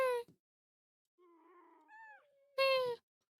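Kittens meow in short, high, plaintive cries, loud and close, with a softer, wavering mew between them and silence around.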